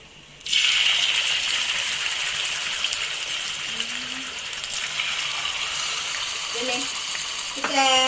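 Mackerel (bangude) hitting hot oil in a pan for a Tulu-style dish bursts into a loud, steady sizzle that holds throughout, with a few brief clinks and scrapes near the end and no talking.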